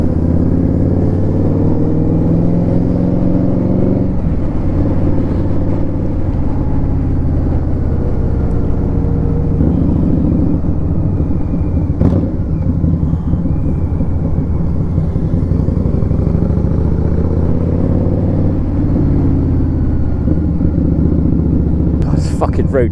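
An Indian Scout Bobber motorcycle engine rumbles steadily while riding through countryside, with a constant low drone and shifting tones as the engine revs, captured close up with wind buffeting throughout.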